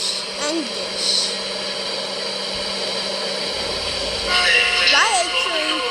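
A subway train in a video game rumbles past beside a platform, a steady mechanical drone with a few rising and falling squeals and tones near the end, heard under a voice talking.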